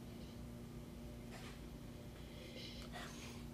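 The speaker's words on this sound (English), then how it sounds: "A little snippy sniff time." Someone takes a few quick nasal sniffs from a glass of wine close to the microphone, in short bursts over a faint, constant hum.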